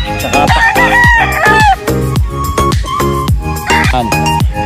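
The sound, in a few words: chickens on a poultry farm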